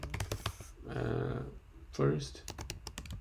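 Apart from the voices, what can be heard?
typing code on computer keyboard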